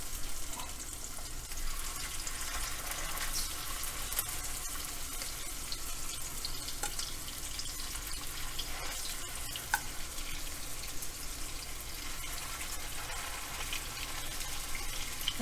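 Redfish cakes fry in heated butter with a steady, even sizzle, a soft continuous crackle heard close up and alone for the whole stretch.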